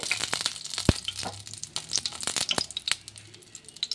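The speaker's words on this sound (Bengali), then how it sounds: "তেলও গরম হয়ে এসছে এখন তেজপাতা ফোড়ন দিয়ে দিলাম" Bay leaf dropped into hot oil for tempering crackles and sizzles in sharp, close pops and crisp bursts over a few seconds, with no talking.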